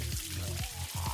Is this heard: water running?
yes